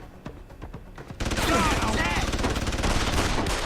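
A gunfight in the video game Deus Ex: Human Revolution erupts in dense, rapid automatic gunfire after a few scattered shots. The sustained, close barrage runs under people talking.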